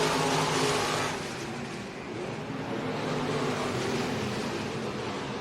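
Stock car engines roar steadily and loudly during a feature race at North Central Speedway, a dense continuous drone that dips briefly before building again.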